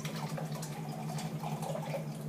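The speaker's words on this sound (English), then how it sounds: "I'm going to pour this now into here" Water poured from one container into another, a steady continuous trickle and splash close by with no talking, lasting a couple of seconds.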